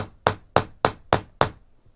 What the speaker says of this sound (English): there's sort of an embossed circle on this end, and this is where you hit with the hammer.